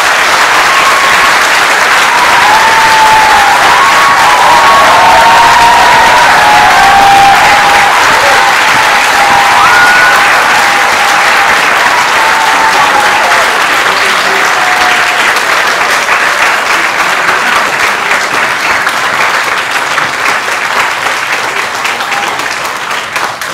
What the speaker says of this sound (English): could I have one more round of applause for you?